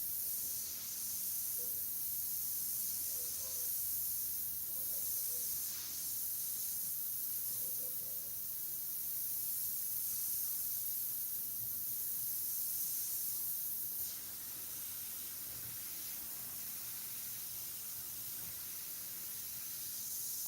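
An airbrush sprays Createx paint onto synthetic paper, a continuous close hiss that barely changes, with a few faint clicks and a slight drop in level toward the end.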